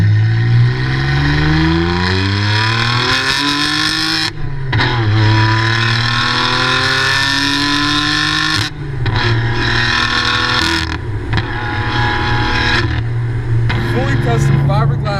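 A modified widebody BMW F80 M3 with a manual gearbox accelerates hard, engine revs climbing through several gears with distinct shift breaks, loud and close from inside the car, with a voice speaking briefly.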